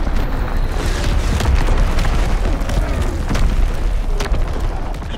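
An artillery battery firing in a team deathmatch video game, with heavy booming blasts and sharp bursts over a continuous loud low rumble.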